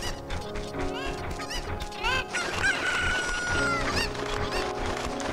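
Cuckoo chickens in Zelda: Ocarina of Time crowing and clucking in a loud, busy chorus over game music, with a sustained crow in the middle and a crash-like hit mixed in.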